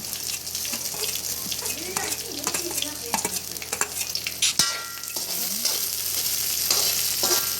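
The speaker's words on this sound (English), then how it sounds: "some garlic, and just stir this for a while. Now we will add in some green chilli." Garlic and then green chilli stir-fried in a hot pan for Malaysian mamak-style mee goreng, a steady close sizzle broken by repeated scraping stirs, with clinks and a brief voice in the background.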